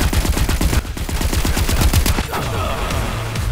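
Rapid automatic gunfire rattles out loud and close in a shooter video game during a pre-release technical test, a fast rhythmic burst of shots followed by scattered further shots.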